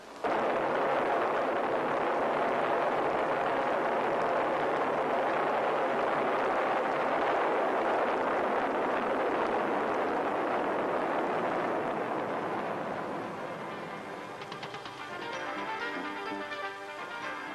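Rocket engines fire at a NASA launch, a loud continuous roar that holds for over ten seconds before easing slightly into a rumbling, crackling tail.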